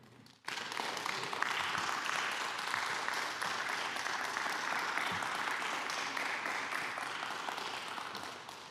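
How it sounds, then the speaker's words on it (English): A crowd applauds the faculty at an Alma College MFA in Creative Writing ceremony, a dense, loud burst of clapping that starts abruptly, holds steady across the hall and fades slightly toward the end. "would you give your faculty a round of applause for all they've done for you?"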